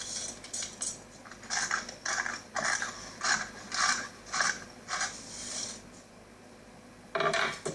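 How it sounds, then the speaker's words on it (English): A knife coarsely chops pecans on a cutting board in a kitchen, giving a quick series of crisp, evenly spaced taps close by, with a short pause before a final burst. "the rest I'll chop up coarsely"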